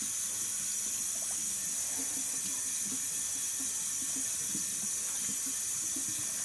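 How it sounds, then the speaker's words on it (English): Tap water runs steadily over a canvas banner being rinsed free of RIT dye, giving a constant close hiss with soft splashes and gurgles underneath. "you're going to rinse it until all the water runs clean"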